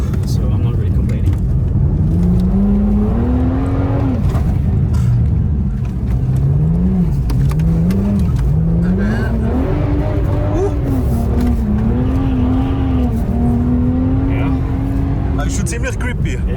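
A 400-horsepower BMW 1M Coupe engine accelerates with a loud, rising tone that climbs, dips between gear changes and climbs again, steady and close from inside the car.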